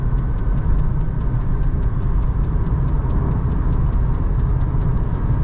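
Steady cabin noise inside a VW Virtus 1.5 with a manual gearbox cruising on the highway: a constant low road and engine drone with broadband rumble, plus a faint regular ticking throughout and no talking.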